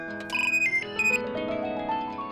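A phone ringtone plays an electronic melody for an incoming call in a home kitchen, bright tones rising and repeating close by with nothing else heard.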